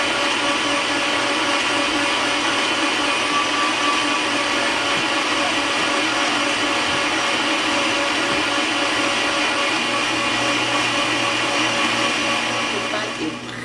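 A blender whirs loudly and steadily, mixing waffle batter for close to fourteen seconds with no break, the motor's dense roar fading only slightly at the very end.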